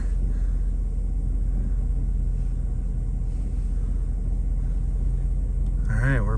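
A truck pushes a stranger's stalled old car along a highway, heard as a low, steady engine rumble and road drone inside the cab, with a brief voice at the end.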